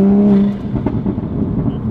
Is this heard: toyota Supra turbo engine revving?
yes